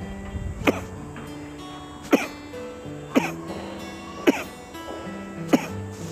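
Five short, sharp coughs spaced about a second apart, made while pressing on the Adam's apple as a stammering exercise, close and fairly quiet.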